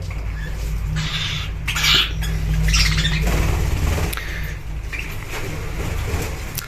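Pet birds in a cage squawk and chirp in short, scattered bursts at close range over a steady low background hum.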